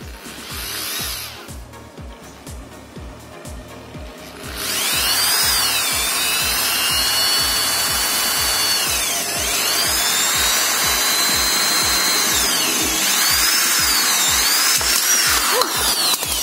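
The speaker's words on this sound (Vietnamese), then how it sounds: "Khoan cũng dễ các bạn. Chỉ cần để ngay và khoan thôi." A power drill bores through a coconut shell, starting with a rhythmic low rattle, then rising into a loud, sustained whine with pitch sweeps as the bit cuts, close and continuous for the full length.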